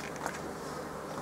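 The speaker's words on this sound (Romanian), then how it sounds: "avem albine în carte care urca, cam multe, o să supărăm aici" Honey bees swarm thickly around an open beehive frame, a dense continuous buzz heard up close with no break.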